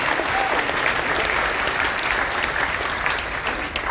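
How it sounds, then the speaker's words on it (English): Aboard the Carnival Dream, a crowd applauds active duty personnel at a military appreciation event, with sustained, thick clapping from many people that holds strong and even from start to finish. "can you please give all of the active duty personnel around the ship another big round of applause?"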